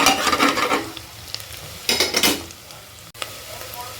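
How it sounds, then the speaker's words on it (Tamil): A spoon scrapes and stirs a ground paste of mint, green chili, ginger and garlic as it sautés in a hot pan for veg pulao. Close, uneven bursts of scraping sit over a faint sizzle, with a sharp tap near the end. "நல்லா நம்ம வந்து வதக்கிக்கலாம் பச்சை வாசனை போகிற அளவுக்கு"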